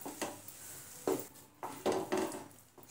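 Mango pulp being stirred into sheera in a pan: a few distinct scrapes and clacks of a spoon against the pan, spaced irregularly over a quiet background.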